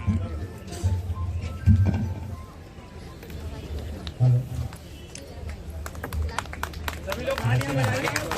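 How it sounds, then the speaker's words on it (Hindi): At a community gathering in Guna, an audience claps for the release of a souvenir booklet. The clapping is steady and moderate, and someone talks over it on a microphone throughout. "तालियां बजाते हैं जब तक हमारी लव कुश स्मारिका का विमोचन हो रहा है"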